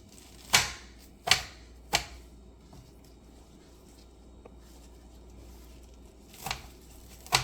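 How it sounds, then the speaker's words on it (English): Knife roughly chopping spinach on a cutting board: three quick, crisp near thuds, a pause with faint small taps, then two more chops. "Just gonna give it a rough chop."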